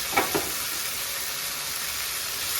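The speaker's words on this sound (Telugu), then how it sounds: "కొంచెం పుదీనా వేసుకొని ఫ్రై చేస్తున్నాము" Mint leaves frying in a pan with ginger and garlic for a masala paneer curry, a steady close sizzle, with two brief stirring scrapes near the start and no talking.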